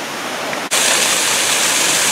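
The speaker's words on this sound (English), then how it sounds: "No, that's the waterfall right here." A waterfall on the Oregon coast along the Samuel H. Boardman Scenic Corridor roars as a steady, loud, broadband rush, briefly dipping once before surging back at full strength; no voices.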